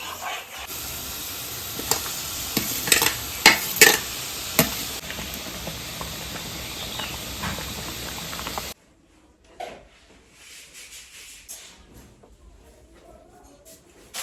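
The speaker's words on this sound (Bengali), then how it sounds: "ওখানে মশলা কষানো চলছে।" Spices fry and get stirred in a pan for a soybean and potato curry, a moderate sizzling hiss with clustered spoon clinks and scrapes for about nine seconds, then only faint room noise and small knocks.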